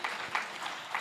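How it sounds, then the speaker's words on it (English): Audience applause at a book launch, a steady wash of many hands clapping at moderate volume with slight swells, no voices standing out. "We agreed if we are clapping, we are clapping."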